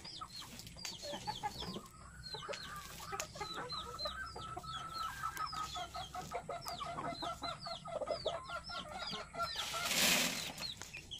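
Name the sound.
chickens clucking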